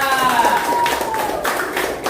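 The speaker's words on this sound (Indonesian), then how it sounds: "Tepuk tangan buat kelompok 2." A classroom audience claps for a student group presenting in a school setting, a short burst of scattered clapping with voices talking over it.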